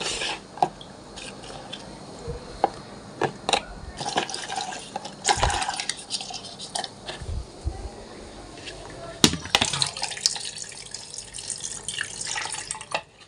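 Lemon leaves rinsed under a running kitchen tap, water splashing and dripping in uneven bursts close by, with someone speaking now and then over the flow.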